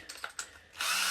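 A cheap Amazon power drill gives a few short, faint taps and whirs, then bursts into a loud, steady, close-up whine that runs to the end.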